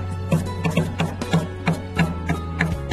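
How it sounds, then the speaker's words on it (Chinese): Steady rhythmic knife chops on a cutting board as four garlic cloves are sliced and then minced, close and crisp, each stroke a sharp tap repeating about three times a second over a low steady hum. "再切成蒜末"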